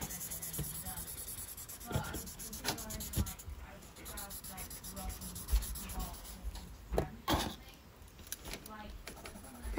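Tissue paper rubbed in small circles over a pencil drawing of an eye, making a soft, steady, scratchy swishing with faint ticks, close up and continuous, with a voice talking at times.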